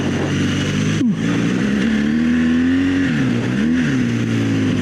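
Adventure motorcycle on Bridgestone AX41 knobby tires riding over dirt, its engine droning steadily up close with a brief dip and then rising, shifting revs throughout, no voices.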